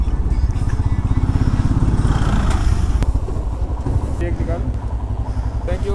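A Royal Enfield Himalayan motorcycle engine runs steadily with a throbbing mid-range pulse at the start of a ride near Old Manali, loud and close, with a rider talking over it throughout.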